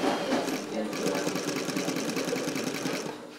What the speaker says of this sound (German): Mit dem gestanzten Leder geht's dann zur Nähmaschine.